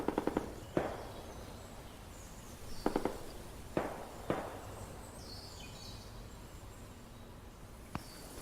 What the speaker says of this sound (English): Gunshots in the distance.